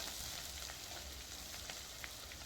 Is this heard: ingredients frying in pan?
yes